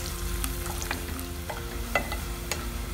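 Chopped garlic sautéing in oil with mustard seeds in a pan, a steady close sizzle with occasional pops and soft stirring, no voices.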